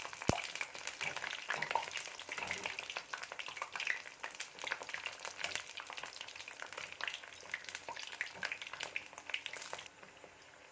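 Black chickpea pakoras frying in oil give a quiet, steady crackling sizzle with scattered sharp pops, heard close with no talking throughout.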